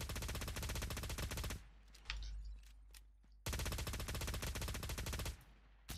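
Rapid automatic weapon fire in the sci-fi shooter Cyber Hunter: two long, loud bursts of machine-gun shots separated by a short pause, then another burst starts at the end.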